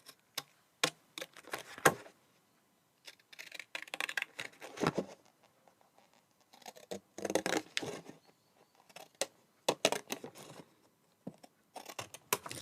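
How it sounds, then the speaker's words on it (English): Fancy scissors snipping paper up close, a series of quiet, crisp cuts in irregular bursts with short pauses between, no voices. "Take my fancy scissors."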